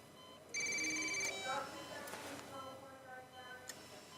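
A telephone rings with a bright electronic trill, then a fainter second burst follows while people talk quietly in a room.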